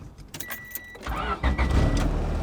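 A Honda Civic EG with its stock D16C6 single-cam engine starting up close by: a quieter first second, then a fuller engine rumble that settles into a steady idle, with no voices.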